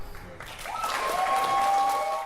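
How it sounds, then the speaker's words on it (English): Applause from the audience at an 8th-grade promotion ceremony swells and carries on steadily for a couple of seconds, with a faint tonal whine over the clapping. "So let's give them a round of applause."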